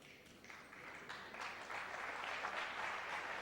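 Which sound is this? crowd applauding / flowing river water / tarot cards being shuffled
crowd applauding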